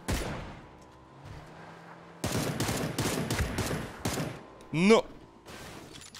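Bursts of rapid gunfire in PUBG crackle in quick clusters, with a brief voice exclamation and a rising electronic tone near the end.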